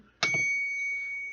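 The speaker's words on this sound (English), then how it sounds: "Let's ring this bell." A single bell rings with a sharp struck onset, then a bright, sustained metallic tone that rings on steadily and close by, with no talking over it.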